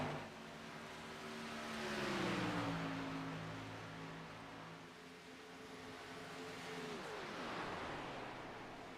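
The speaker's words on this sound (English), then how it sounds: "Sounds like these guys are running electric cars around this track." Electric race cars circling a track in a racing video game, engine tones sliding slowly down and back up as cars pass, a steady whooshing drone with no talk.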